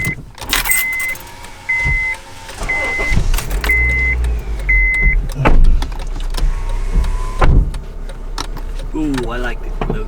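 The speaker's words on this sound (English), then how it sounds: "We're gonna actually start the car" A 2006–2011 Honda Civic is started: a sequence of repeated electronic chimes and clicks, then a short cranking burst and engine catching near the middle, with door and cabin thumps and voices talking throughout.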